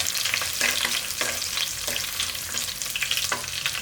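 Three whole green chillies and garlic sizzle loudly in hot oil for a fish curry, a dense continuous crackle with spattering pops and a few scraping stirs, heard alone up close.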